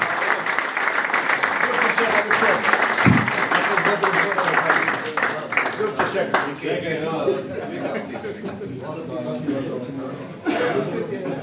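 An audience at a football club reunion evening applauds a center back, with steady dense clapping mixed with chuckles and crowd murmur that thins out toward the end before a brief swell.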